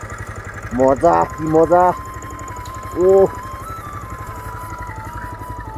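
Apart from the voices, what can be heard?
motorcycle engine running while hands are warmed on it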